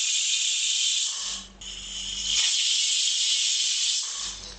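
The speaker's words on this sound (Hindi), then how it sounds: "दो विसिल आ चुके हैं, अब हम गैस को ऑफ कर देते हैं" A loud, continuous high-pitched steam hiss from a pressure cooker whistle, briefly dipping then resuming, with a low rumble underneath at times.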